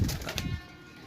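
Pigeons offered for sale coo in one short close burst, soft low throaty notes fading out within half a second against a quiet background.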